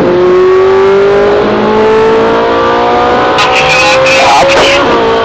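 A Ferrari 458 Italia V8 screams under hard acceleration on the Red Bull Ring track, loud and close from onboard, its pitch climbing steadily before brief shift blips near the end.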